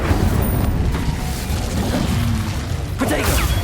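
An Incendio fire spell cast in Hogwarts Legacy bursts out as a loud whooshing boom with a crackling roar, followed by another surge of magical noise near the end.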